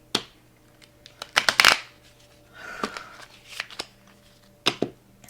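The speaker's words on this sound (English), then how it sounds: "let me shuffle again." Tarot cards shuffled by hand give bursts of riffling and soft snapping, one louder flurry early and then scattered lighter shuffles and taps, close up with no speech.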